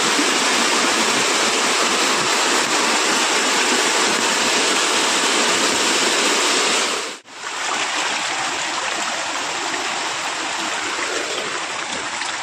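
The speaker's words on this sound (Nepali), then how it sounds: "बाटोमा खोला यस्तो भरेको छ आज रातभरिको पानीले गर्दा" A swollen roadside stream rushes loudly after a night of heavy rain during a cyclone in the Dooars region of North Bengal, its dense, steady roar filling the scene with a brief dip midway before the torrent continues unbroken.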